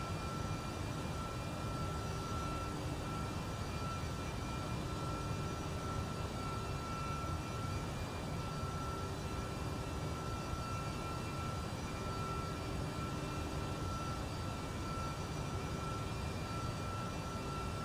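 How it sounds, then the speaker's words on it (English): Rotate MD-11 airliner taxiing in the X-Plane 12 flight simulator, a constant loud jet engine roar with a steady whine tone, unchanging throughout and without talking. "We're way too fast taxiing"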